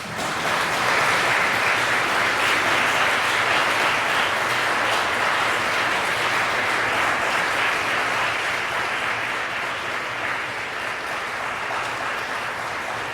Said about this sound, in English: give your family and friends a round of applause